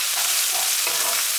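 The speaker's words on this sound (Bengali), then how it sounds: "রসুনটাকে 1 মিনিট ভেজে একটু লাল করে নেব আগে" Garlic fries in hot oil in a pan for a pumpkin-leaf and potato curry, a constant close bright sizzle with a few soft stirring scrapes, no talk.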